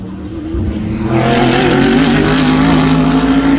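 BMW and Mercedes GT race cars pass at Virginia International Raceway during a GT World Challenge America race. Engines swell quickly from quiet to a loud, sustained roar as the cars approach and go by.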